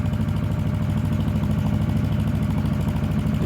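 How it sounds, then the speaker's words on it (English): A narrowboat diesel engine idles nearby on a canal, giving a steady, low, even chugging throb with a faint clatter that holds unchanged throughout, with no voices over it. "Oh, listen to that engine."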